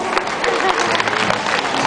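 An audience at a sea lion show claps and cheers in a steady, busy wash of sound with a few voices in the crowd.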